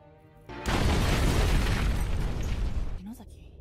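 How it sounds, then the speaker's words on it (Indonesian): A bomb blast destroying a building, as a film sound effect: one sudden loud roaring explosion that sustains as a dense rumble for over two seconds before tailing off, with a brief faint tone near the end. "yang akhirnya meledakkan gedung itu beserta seluruh isinya"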